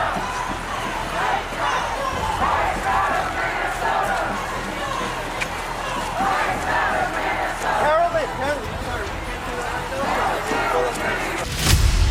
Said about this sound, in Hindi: हजारों की ये भीड़ कहां से आई?